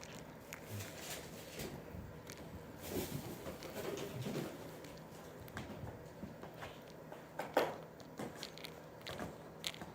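Mother cat chewing on a toy at close range: quiet, irregular gnawing and crunching bites with scattered soft clicks over low background noise.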